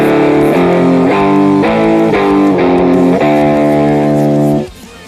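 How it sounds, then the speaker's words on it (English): Electric guitar through a clean amp with no effects, loud and close, with a series of bright strummed chords at a steady pace that ring out before stopping sharply. "my clean sounds like this, which is the same thing as the crunchy one, just instead into a clean amp this time."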